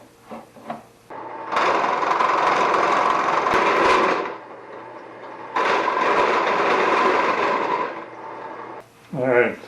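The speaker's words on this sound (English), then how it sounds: "So that's the first arc across with the Forstner bit" Drill with a Forstner bit boring into wood for a bird feeder, two sustained loud whirring runs of about two and a half seconds each separated by a pause, close up, with faint handling noise before and after.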